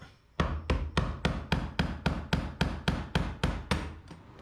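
A hammer strikes a fuel pump lock ring on a vehicle tank in a steady series of about thirteen sharp metallic blows, close up, evenly spaced and loud, with no talking.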